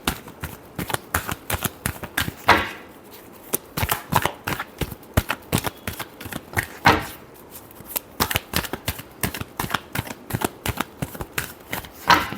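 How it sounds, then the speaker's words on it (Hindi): Tarot cards are riffled and shuffled by hand in close, repeated bursts of crisp flicking with a few brief pauses, no one speaking during the Pisces love reading. "last shuffle"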